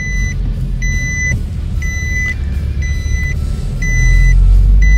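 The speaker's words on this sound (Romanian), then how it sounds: "Enervant sunetul ăsta de la centura" A car's seatbelt warning chime sounds inside a Dacia Duster-engined SUV at a car market, repeating steady beeps about once a second over a low engine rumble.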